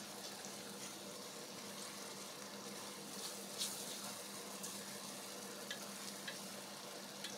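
Smoked fish being stirred into an onion, garlic and tomato mix in a pan over medium heat, a steady close sizzle and frying hiss with a few soft scrapes and clicks, quiet and without speech.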